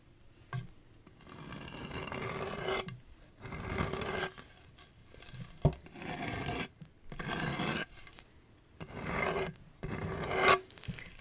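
Rhythmic dry scratching and rasping, close to the microphone, in repeated bursts of one to two seconds separated by short pauses, with a few sharp taps between strokes.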